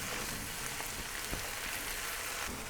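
Vegetables frying in a pan with Kashmiri red chili, crushed red chili and coriander powder, a steady close sizzle running throughout with no talk.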